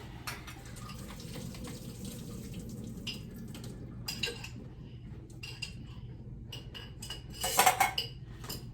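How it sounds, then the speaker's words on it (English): Vegetables are drained into a colander at a sink, with faint running water, light clinks and rattles of cookware, and a louder splashing pour near the end. "Drain them all out and just keep them in the colander like that"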